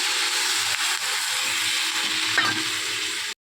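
A splash of water hits pumpkin greens with vegetables and fish head in a hot pan, bursting into a loud, continuous close-up hiss of steam and sizzle that cuts off abruptly, with no talk.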